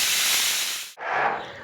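Steam hisses loudly and steadily from a pressure cooker of beef curry, breaks off for a split second, then rushes out again in a second strong burst.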